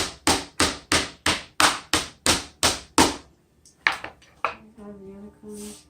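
A meat mallet pounds pork flat on a board about ten times in quick, even, loud strikes, followed by a few softer knocks and a brief voice.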